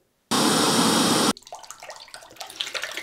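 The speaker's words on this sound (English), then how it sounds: "I actually had to dump my sink full of cold water and put hot water in it to get this to to rinse out better" Water pours loudly from a tap into a sink for about a second, then cuts off, followed by softer splashing and sloshing as a shaving razor is rinsed in the sink water.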